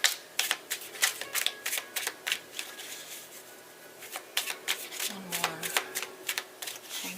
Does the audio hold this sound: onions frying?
no